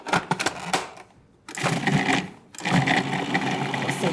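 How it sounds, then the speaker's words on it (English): A kitchen food processor whirs loudly in short pulses, chopping butter, flour and salt for a cookie dough base, with brief quiet gaps between the bursts and no speech. "How easy, right in the food processor too."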